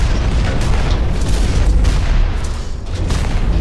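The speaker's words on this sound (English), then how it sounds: "Apparently the missiles can be detonated in midair if you press right click again." Missile detonating in midair in the mech combat game Hawken, a loud sustained boom with rumbling blast energy and crackle filling the whole moment, no talk over it.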